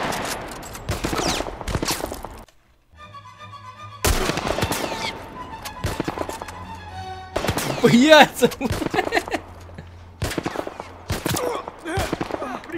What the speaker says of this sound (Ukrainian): Вона куди-сюди стріляє.